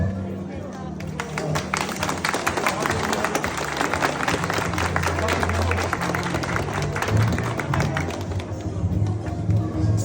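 Guests at a Turkish engagement ceremony applaud the couple with steady, dense clapping and crowd noise that carries on throughout, with talk and chatter mixed underneath.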